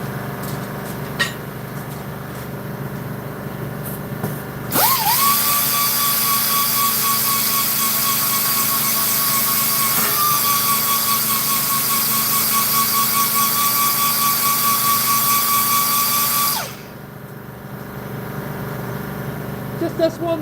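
A dual action sander smoothing bandsaw marks starts up, runs with a steady high whine and whirring hum for about twelve seconds, then stops, with a voice talking faintly before and after.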